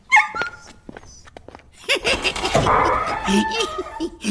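A small dog barks and whimpers in a few short bursts amid laughter and other voices, fairly close but partly masked by the chatter.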